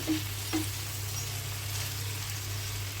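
Bitter gourd fry is stirred in a hot pan. A steady oily sizzle carries on throughout, with two quick spatula scrapes near the start and no talking.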